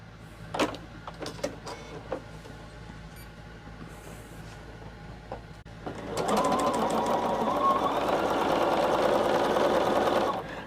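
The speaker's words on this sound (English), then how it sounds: "we will be taking our 8B, our 6B, and our 4A, and we will be sewing those together" A sewing machine stitches quilt pieces together for a fall carnival quilt, with a few scattered handling clicks before it starts. Then comes a steady, close, loud whirring run.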